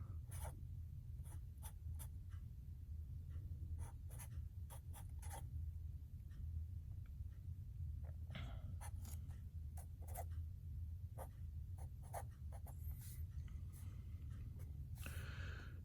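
Marker or pen strokes on a lecture board or tablet while sketching a phospholipid diagram in a biology class, giving scattered short scratchy squeaks over a steady low hum, with no talking.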